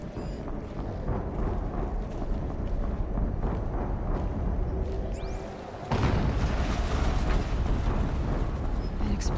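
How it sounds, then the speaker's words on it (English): A deep booming explosion erupts in the Horizon Zero Dawn video game, a sudden rise in loud low rumble over continuous wind and ambient noise, with a voice talking over it. "An explosion."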